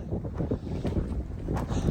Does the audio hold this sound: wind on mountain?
yes